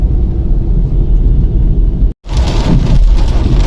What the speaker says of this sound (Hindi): झमाझम बारिश पड़ रही है।